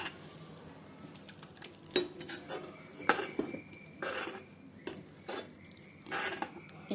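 Spinach puree and paneer are mixed with a metal spoon in a pan, bringing repeated clinks and scrapes against the pan with soft wet stirring sounds, close and with no talk.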